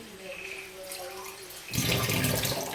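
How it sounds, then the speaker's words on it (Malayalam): Water is poured into food for grinding in a sudden splashing rush that starts partway through and continues steadily, after a quieter stretch of faint hum. "നമുക്ക് വെള്ളം ഒഴിച്ചു കൊടുക്കാം"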